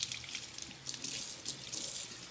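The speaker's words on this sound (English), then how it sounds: "I'm just gonna rinse it off real fast." Kitchen tap running over raw chicken being rinsed in a sink, a quiet close hiss of water broken by uneven splashes and gurgles, with no talking.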